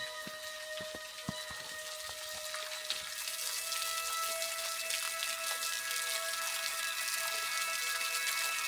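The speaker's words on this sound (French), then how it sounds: "Je descends en direction de la cascade et même si son débit est faible, cela reste un bel endroit à admirer." A small waterfall with low flow below snowy cliffs gives a soft, continuous splashing and trickling hiss that grows slightly fuller partway through, with a few light drips early on.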